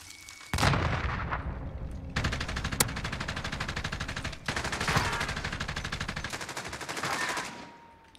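Sustained light machine gun bursts from Modern Warfare, long rapid strings of shots with brief pauses between them, loud and close with no talking.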